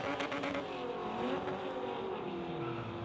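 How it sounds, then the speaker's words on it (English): A 1991 Honda Civic drag car holds its engine against the rev limiter at a racing event, producing a loud, sustained, buzzing drone with a wavering pitch and no pauses. "Up against the Rev Limiter, the Black Widow 91 Civic"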